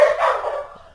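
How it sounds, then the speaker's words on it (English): Several dogs barking at home in the background, a short burst of loud yips and barks that fades within about a second, with no talking over it. "Yeah, that's my dogs."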